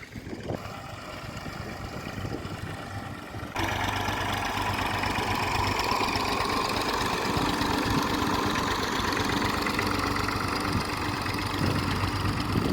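A farm tractor engine idles steadily at an earthwork site where land is being levelled, a continuous low mechanical drone that grows slightly louder partway through, with no talking.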